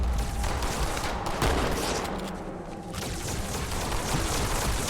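Dense, loud gunfire rattles almost continuously in a firefight in Halo 2 Anniversary, with heavy bursts and booming impacts over a constant roar of battle noise.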